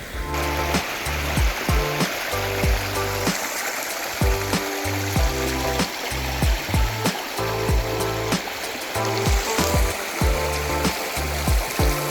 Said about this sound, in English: stream just back there, which again is crystal clear, the water coming down there